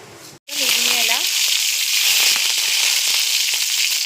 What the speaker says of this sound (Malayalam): നമുക്ക് അതിലേക്ക് ഇച്ചിരി കടുകിട്ട് കൊടുക്കാം